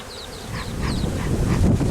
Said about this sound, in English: This is another way to kind of force some of the bees out, is you just smoke them out.